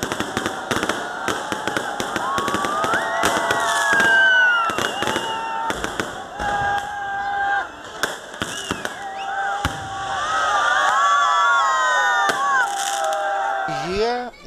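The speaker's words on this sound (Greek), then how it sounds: "το σόου με τα πυροτεχνήματα που ακολούθησε έκλεψε την παράσταση" New Year's fireworks in central Heraklion crackle and pop in rapid bursts, with high whistling streaks rising between the blasts and a crowd murmuring underneath.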